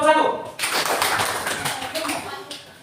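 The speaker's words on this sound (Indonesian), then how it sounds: "Kasih tepuk tangan untuk kelompok 1." A classroom group claps for a group of students, with a burst of steady applause that starts abruptly and runs for about two seconds, fairly close and mid-level, while a voice speaks faintly at the start.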